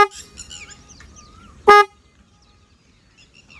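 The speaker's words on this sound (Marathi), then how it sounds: "म्हणून मी त्यासाठी एक दुसरा हॉर्न मी लावून घेतला" An added aftermarket horn on a KTM Adventure 250 motorcycle gives one short, loud blast at close range, standing out sharply against low background noise with faint sounds before and after.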